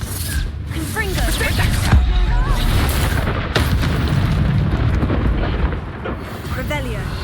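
Confringo fire spell in the Hogwarts Legacy game, a heavy booming explosion with a sustained rumbling roar and crackling bursts, loud and close, while a voice speaks over the din.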